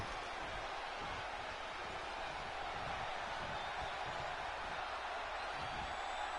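Arena crowd cheering in the WWE 2K20 wrestling video game during an Elimination Chamber match, a dense unbroken roar of noise sustained at an even level throughout.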